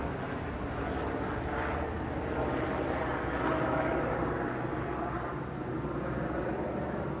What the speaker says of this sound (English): Helicopter goes by while I'm trying to record something.